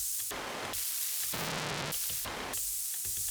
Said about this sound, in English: This kind of like nice top end tape hiss sounds quite nice